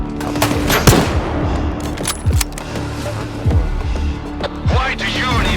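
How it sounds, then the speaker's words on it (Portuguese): Gunfire in the video game STALKER 2, with a rapid burst of loud, close shots and several further sharp reports spread through the stretch. "O cara dá tiro atravessa a parede"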